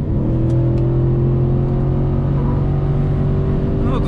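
Audi S6 C5 from 2000 accelerating at motorway speed, a steady loud engine drone with rising harmonics heard from inside the cabin, with road and wind noise underneath.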